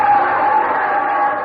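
A radio-show crowd cheers at a baseball game in New York, a steady roar of many voices that holds loud throughout with no break.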